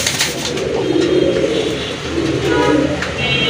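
A Nat pigeon coos in repeated deep, throaty rolling calls, loud and close, alongside a Chila hen.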